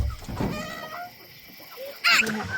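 A few soft clucks from a chicken close by, with a sharper squawk near the end and quiet rustling in between.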